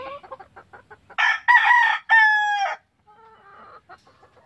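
A Golden Gray Roundhead gamefowl rooster of a pure Allen Roundhead line gives a few short clucks, then a loud, close crow delivered in two strong drawn-out bursts that fade into quieter clucking.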